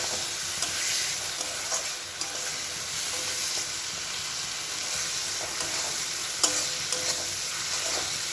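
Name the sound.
spices frying and stirred in pan for ghugni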